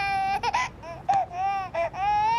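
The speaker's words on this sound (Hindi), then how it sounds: "इंजन स्टार्ट करो तो बच्चे के रोने की आवाज।" A baby cries in short, wailing bursts with brief breaks between them, close and fairly loud, with no other sound competing.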